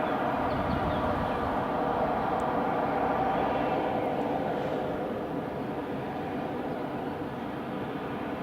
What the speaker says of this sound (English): Alright, that's the TUI just taxiing.